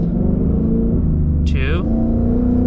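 A Ford Mustang's engine blips upward briefly as the paddle shifter drops it down from third gear, a short rise in revs over a steady low cabin rumble, while someone talks throughout.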